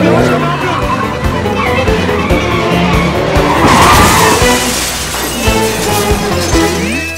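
A car driven recklessly with tires skidding and squealing in a loud, continuous screech over engine noise, while several voices shout and talk throughout.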